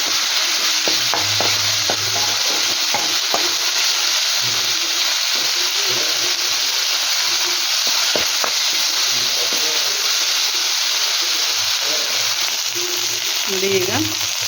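Ginger garlic paste fries in a pan for a mint chicken fry, giving a steady, fairly loud hiss with soft scattered stirring knocks and faint low murmurs in the background.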